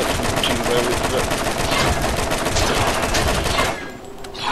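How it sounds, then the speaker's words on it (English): Heavy machine gun firing in a video game, a dense rapid stream of loud close shots lasting nearly four seconds before stopping abruptly. "Oh my god, that's the machine gun we put."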